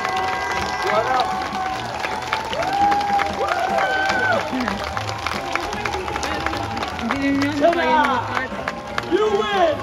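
An audience at a Renaissance festival acrobatic show keeps up sustained clapping and cheering, with whistles and shouts cutting through the crowd noise for several seconds.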